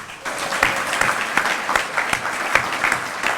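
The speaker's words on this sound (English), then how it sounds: "I want to give you all one more round of applause" Applause from the audience at a fire academy graduation ceremony: sustained clapping from a sizeable crowd with sharp individual claps standing out, steady and fairly loud throughout.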